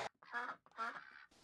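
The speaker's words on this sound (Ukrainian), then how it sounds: "У ямах на дорозі, що утворилися біля будинку Ольги Татушко в селі Колодежа, плавають качки" Ducks swimming in water-filled potholes on a village road in Kolodezha, Volyn, give two raspy, drawn-out quacks close by, separated by a short pause, with no voices.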